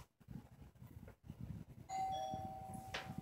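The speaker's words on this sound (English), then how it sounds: "Somebody's at my doorbell." A doorbell chimes over steady background noise and low rumbling, its tone ringing out and lingering.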